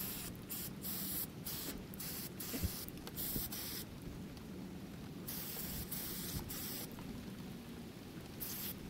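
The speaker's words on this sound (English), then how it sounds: "I do have some carburetor cleaner." Carburetor cleaner sprayed from an aerosol can in a garage during fuel system work on a 2010 Honda Shadow Phantom: a series of short hissing bursts, then longer continuous sprays, close by and fairly quiet.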